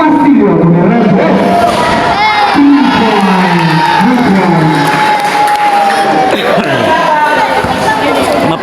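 Loud, dense crowd noise from spectators at a barangay officials versus JAT Farm basketball final, with continuous cheering, shouting and babble filling the whole stretch, swelling in bursts.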